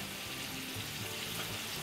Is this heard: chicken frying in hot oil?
yes